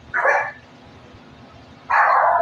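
Two loud, close dog barks separated by about a second and a half of quiet room noise, with no talking over them.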